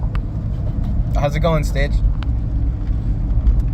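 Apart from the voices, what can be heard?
car driving with dog inside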